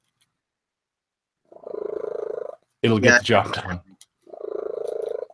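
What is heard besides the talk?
cat purring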